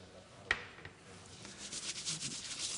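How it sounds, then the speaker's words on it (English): Hands rub a small amount of Volumaire volumizing hair product between the palms, a soft, faint swishing friction that builds slightly, close and without speech. "You just put a little bit of Volumaire in your hand."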